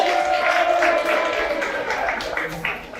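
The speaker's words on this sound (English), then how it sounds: "Please give them another big hand of applause." Guests at an installation dinner for cabinet, district and LEO officers give sustained, dense applause for the newly installed officers, with crowd chatter mixed in throughout.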